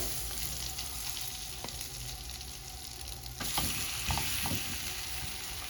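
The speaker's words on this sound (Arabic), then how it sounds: "هنزل بقى بالفراخ بتاعتي اللي انا تبلتها بالملح والفلفل والبابريكا والدقيق" Chicken pieces seasoned with salt, pepper and paprika and coated in flour fry in a pan. A dense, loud sizzle runs throughout and swells as more pieces drop in, with faint clinks near the end and no voices.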